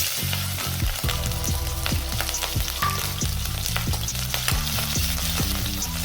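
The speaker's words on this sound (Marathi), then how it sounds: "आता मस्त आपण याच्यात जिरे टाकू आणि आपण जे हिरव्या मिरच्या आणि लसूण ते सुद्धा याच्यात टाकणार आहोत" Mustard seeds, cumin, green chillies and garlic sizzle and crackle in hot oil for a tempering, a loud continuous fry with repeated stirring scrapes in the pan.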